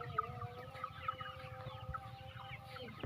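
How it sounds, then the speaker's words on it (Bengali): Many chickens cluck and call together inside a large poultry farm shed, a dense steady chorus of overlapping clucks at moderate distance. "প্রচুর মুরগি"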